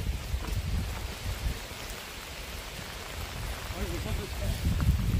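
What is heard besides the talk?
rain falling on a mountain summit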